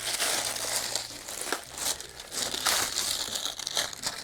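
Plastic wrapping on a multichannel amplifier box being torn and crinkled open, close and fairly faint, in irregular bursts of rustling.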